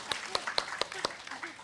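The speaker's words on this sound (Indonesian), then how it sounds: "Ayo tepuk tangan." Audience in a church fellowship gathering clapping in a brief, loose burst of separate claps, fairly close, while voices chatter over it.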